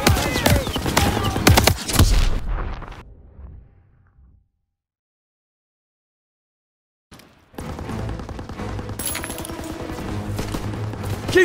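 Machine gun fire and explosions in Call of Duty: WWII, loud bursts and blasts that fade into a few seconds of silence, then heavy continuous gunfire resumes.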